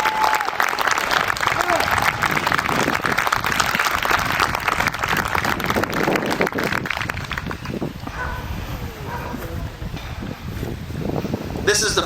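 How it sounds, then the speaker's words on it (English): Outdoor crowd applause at a Pawnee Scouts honoring gathering at Fort Kearny, a dense, steady clapping that fills the whole stretch, with some wind noise on the microphone and faint voices underneath, thinning slightly toward the end. "let's do a round of applause and a good welcome to the Pawnee people"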